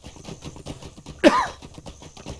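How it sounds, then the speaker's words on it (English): A single short cough breaks through quiet background noise, sharp and fairly close. "Yes, I do have a cough."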